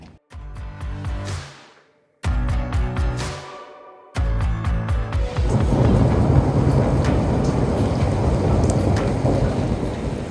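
Heavy rain falls in Portugal, a steady dense hiss that swells in after a few abrupt bursts of broadband noise, continuing loud and unbroken to the end.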